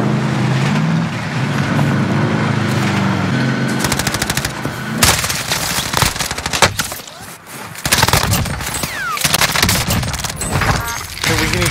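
Loud, sustained automatic gunfire from a shooter video game, with dense rapid bursts and overlapping shots that keep going without a real pause.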